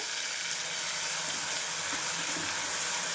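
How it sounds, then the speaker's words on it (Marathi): Onion paste with curry leaves sizzling in hot oil in a kadhai for quick rajma masala, a steady close frying hiss with soft crackle, no talking. "छान आहे पेस्ट भाजून घेते।"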